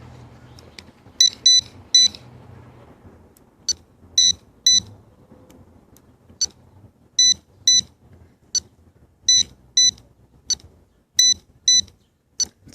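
A Garrett Pro-Pointer metal detector emits a series of short, sharp electronic beeps, some in quick pairs and triplets, spaced irregularly and fairly loud, with faint handling noise from the repaired unit between them.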